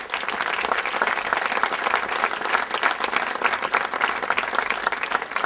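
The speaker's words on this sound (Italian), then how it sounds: "Accoglierei con un grande applauso." A studio audience gives a guest a big welcoming round of applause, thick continuous clapping from many people, loud and sustained with a slightly fluttering texture throughout.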